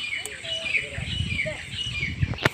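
A small bird chirps faintly near its nest, a few thin, brief calls in the background while someone talks over them close up.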